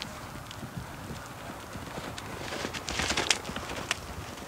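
A horse canters over ground poles in a riding lesson, its hooves clip-clopping in a quick rhythmic beat against the ground with some background noise throughout.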